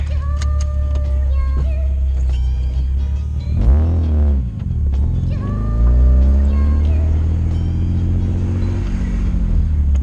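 A BMW E36 M3 driving with its exhaust miked, a loud low engine drone throughout with rising and falling rev sweeps as it accelerates and shifts.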